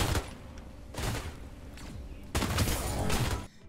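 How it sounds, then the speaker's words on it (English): Belica's three-round burst basic attack fires in the video game Predecessor, loud rapid bursts of triple popping shots repeated about three times, dense and punchy with brief gaps between volleys. "The sound effect is well done with a distinct triple pop when firing and a chunky pop when hit"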